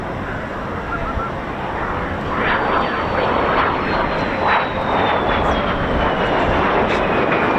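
A de Havilland Vampire jet flies at the Eastbourne airshow, a loud, continuous jet roar that swells as it passes close overhead. A faint high whine slides gradually downward beneath the roar.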